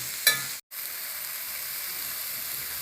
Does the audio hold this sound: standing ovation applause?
no